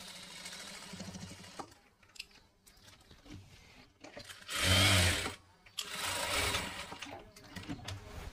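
Sewing machine running in bursts while stitching a seam on satin gown fabric, a loud sustained whir near the middle, then a second run, with quieter handling sounds between.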